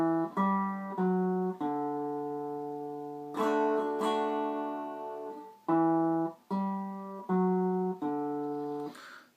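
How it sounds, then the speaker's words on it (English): A guitar plays a short melodic run from a song, mixing open strings with fretted notes on the fourth string, as a clear sequence of plucked single notes and ringing dyads heard up close, with no talk. "there's a little run, and it sounds like this"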